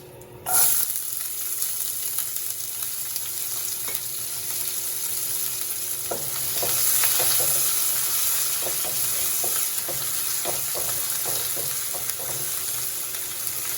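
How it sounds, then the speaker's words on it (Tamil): Chopped small onions and curry leaves sauté in an oiled pan for a pickle-style snake gourd dish, a steady loud sizzle with frequent spoon scrapes and stirring clicks throughout, no one talking. "வெங்காயம் நல்லா வதங்கட்டும்"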